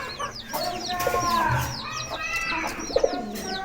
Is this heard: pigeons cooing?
yes